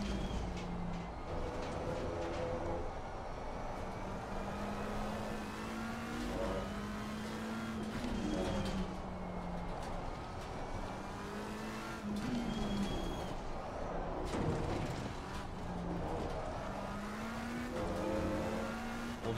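Race car engine in the LFM racing video game, a steady droning motor that rises in pitch through the gears again and again, continuous and fairly loud with no talk.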